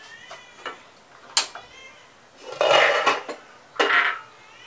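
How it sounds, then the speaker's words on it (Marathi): Edible gum (dink) for laddus is crushed in sharp, clattering crunches, a few light clicks followed by louder grinding bursts, close and irregular. "डिंक चुरून घ्यायचे।"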